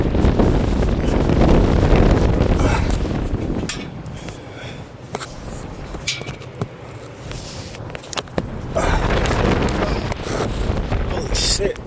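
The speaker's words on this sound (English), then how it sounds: "It got all types of windy all of a sudden." Strong sudden wind at an abandoned construction site buffets the microphone in a loud, continuous low roar, easing briefly in the middle before gusting hard again.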